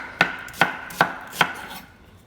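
A knife chops a white onion on a cutting board, four crisp evenly spaced strikes close up, then stopping, with no talking.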